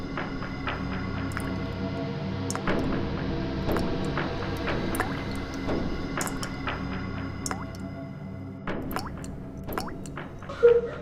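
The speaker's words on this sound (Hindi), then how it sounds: "कुछ टपकने की आवाज आ रही है ना?" Liquid drips from somewhere in a kitchen, a scattered series of small, irregular drops over a steady low background hum.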